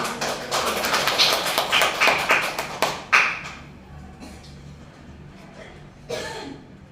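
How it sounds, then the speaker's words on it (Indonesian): A high-school class claps in a classroom, a short burst of close applause that fades after a few seconds, followed by quiet room noise and a brief knock near the end. "Silakan berikan tepuk tangan"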